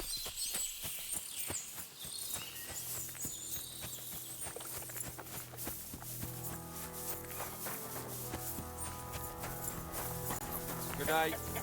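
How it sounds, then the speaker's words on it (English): Horses clip-clop at a walk in Kingdom Come: Deliverance 2, amid game music and ambient insect chirps, with faint voices speaking over the steady layered soundtrack. "Lovely horses you have here."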